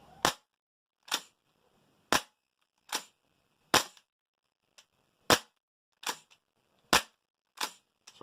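A Tokyo Marui MWS gas blowback airsoft rifle cycles repeatedly with an empty magazine, about ten sharp, loud metallic clacks spaced roughly a second apart against near silence.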